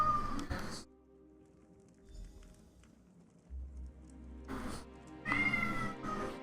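A cat in the video game Morrowind meows several times, a short cry at the start and two longer, louder calls near the end, with quiet game ambience in between and no speech.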